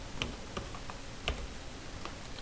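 Soft keystrokes on a computer keyboard while entering text into a spreadsheet search box, a few sparse, quiet clicks spaced irregularly over a low background hiss.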